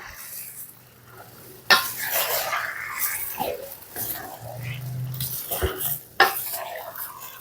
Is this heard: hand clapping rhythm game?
no